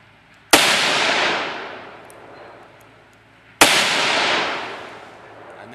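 Two loud, sharp .357 Magnum revolver shots fired double action with Remington Golden Saber rounds at an outdoor range, each blast followed by a long echoing decay, about three seconds apart.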